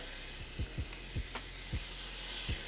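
Shaved ribeye sizzles in a hot pan for cheesesteak eggrolls, making a steady broad hiss of frying fat. Soft low knocks and scrapes of stirring sound now and then, with no talk.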